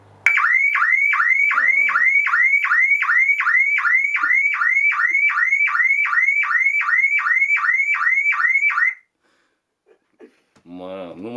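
A newly installed ultramodern house alarm wails loudly and close, a fast repeating electronic whoop cycling steadily for about eight seconds before cutting off, followed by brief talk.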